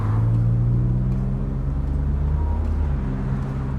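A car engine rumbles steadily up close with a low, continuous drone and slight revving, as the vehicle turns and drives toward home, with no voices over it.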